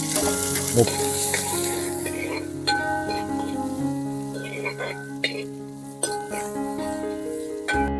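Whole spices such as star anise, together with ginger and garlic, fry in hot oil for a Kerala beef dish. A loud, continuous sizzle runs throughout, punctuated by occasional clinks and stirring scrapes, with no talk.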